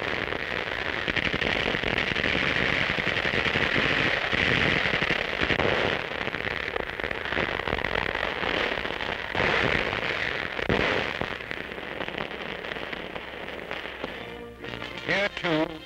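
Battle gunfire and explosions from World War II fighting in New Guinea, as American and Australian troops attack: dense rapid crackling bursts and pops, sustained and loud, with heavier blasts scattered through, growing sparser toward the end.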